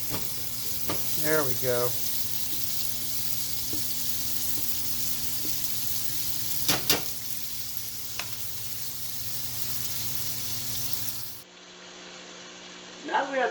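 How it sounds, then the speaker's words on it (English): Bacon frying and rendering in a pan, a constant close sizzle and crackle throughout with occasional utensil clatter and a brief spoken remark over it. "Now that we have the bacon going, it's rendering, it's looking good"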